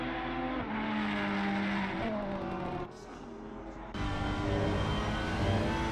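A Ferrari GT3 race car laps Laguna Seca in a sim-racing game, its engine droning steadily with shifting pitch as it works through the twisty section, dipping briefly mid-lap before revving back up.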